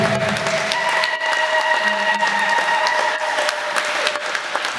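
A church congregation applauding during a worship service, with steady, busy clapping from many hands at close range and a faint murmur of voices underneath.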